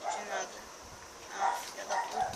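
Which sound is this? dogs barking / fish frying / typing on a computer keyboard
dogs barking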